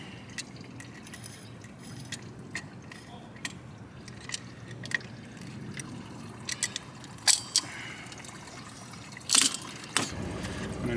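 Coolant draining from a disconnected lower hose of a 2001 Lexus LS430, a steady trickle with scattered drips and clinks nearby, louder splashes toward the end.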